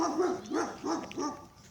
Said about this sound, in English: Sorry about that dog, y'all. He's super loud.